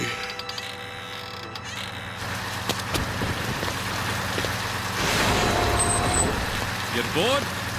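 A bus pulls up in a street scene, with a broad rumbling engine and a hiss-like wash of noise building toward the end, heard under background sound with no clear distinct brake burst.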